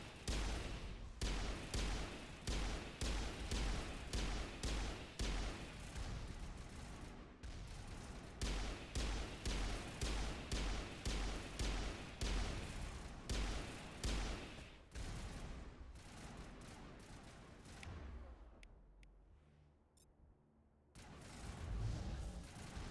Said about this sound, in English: It is a high caliber gun, so the point of it is to be loud